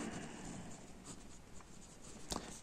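Steady pen-on-paper scratching while working a math exercise on ordering real numbers, a continuous soft friction with small strokes and a sharper tap near the end, close and fairly quiet.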